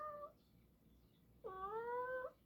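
An indoor cat meows twice, first a brief call and then a longer, drawn-out meow with a rising and falling pitch, fairly close against a quiet background.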